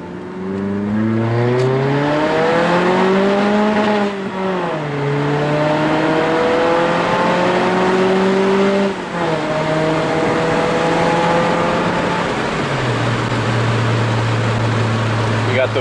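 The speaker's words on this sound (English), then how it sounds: "Those crispy downshifts, Jake." A car engine revs and drops repeatedly through downshifts while drifting, its pitch climbing and falling in long sweeps before settling into a loud sustained drone near the end; voices talk intermittently.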